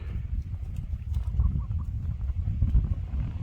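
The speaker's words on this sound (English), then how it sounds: "Just clucking around." Faint, soft clucking from chickens, a few brief calls over steady low rumble and outdoor noise.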